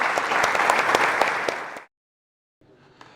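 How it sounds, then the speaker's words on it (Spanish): An audience at a tech conference breaks into dense applause that holds steady for under two seconds and then cuts to silence, followed by a faint return of room noise with a small clatter. "así que un aplauso, por favor"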